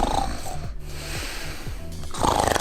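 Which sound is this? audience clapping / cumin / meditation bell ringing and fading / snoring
snoring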